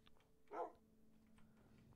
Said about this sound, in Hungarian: Hát ez egy kutya.